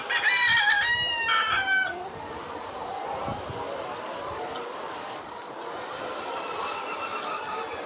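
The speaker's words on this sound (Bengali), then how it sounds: "এই জায়গায় ব্রয়লার মুরগি এবং লাল মুরগিও আছে" A farm with broiler and red chickens: a rooster crows loudly and close at the start, then the flock's steady clucking and murmur carries on as a dense background bed.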